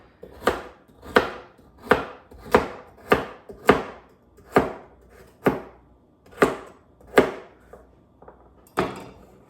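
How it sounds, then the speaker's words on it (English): A knife chops through vegetables on a cutting board, about a dozen sharp, uneven thwacks in a loose rhythm, close and clear with nothing else around. "I'm so used to just rough chopping."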